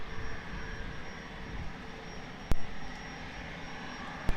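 Airplane landing on runway 20 at Lisbon Airport, a broad, steady engine roar carrying over a distant open-air background, with two brief sharp knocks, and no talking.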